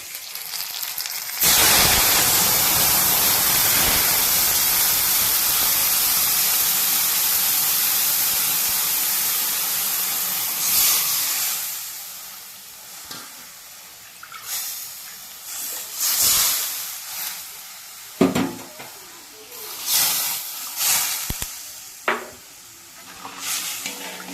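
Turmeric water poured into a hot pan for hilsa curry sets off a loud, sustained hiss and sizzle up close, fading after about ten seconds into softer bubbling, clinks and stirring sounds.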